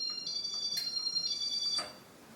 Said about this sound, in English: has the loudest buzzer I've ever heard on a Casablanca fan